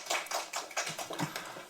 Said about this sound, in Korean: 그럼 큰 박수 부탁드리겠습니다.